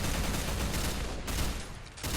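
Loud, rapid gunfire in the Minecraft video game, a continuous barrage of overlapping shots with two brief near-pauses before the firing resumes at full intensity.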